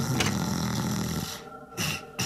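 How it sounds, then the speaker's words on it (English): A character in the stealth game Thief 3 snores, giving a couple of rough, drawn-out snorting breaths close by, then a short gap and a brief final snort. "Oh, it was you that was snoring."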